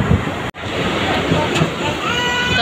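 Steady wind and rushing water at a creek near Mumbai, roaring loud and close as if from a moving train, broken once by a brief dropout.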